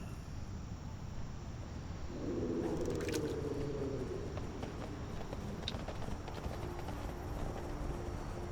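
Horse hooves clip-clop at a steady walking pace in World of Warcraft: The War Within, ridden through the Wrath of the Lich King zones, a soft continuous patter under ambient game background.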